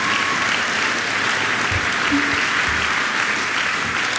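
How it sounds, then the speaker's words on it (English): Steady applause from a school assembly audience clapping for singers, a dense continuous patter filling the room at moderate loudness with no break. "Could you give them all a round of applause, please?"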